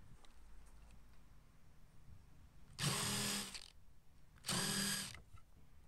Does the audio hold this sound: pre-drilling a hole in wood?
yes